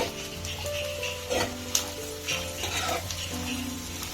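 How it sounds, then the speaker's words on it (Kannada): Carrots and beans fry in oil for vegetable upma, giving a steady, close sizzle throughout, with occasional scrapes and taps of a stirring spoon against the pan. "ಕ್ಯಾರೆಟ್ ಮತ್ತೆ ಬೀನ್ಸ್ ಹಾಕೋಣ ಇದನ್ನು ಎಣ್ಣೆಯಲ್ಲಿ ಸ್ವಲ್ಪ ಫ್ರೈ ಮಾಡೋಣ"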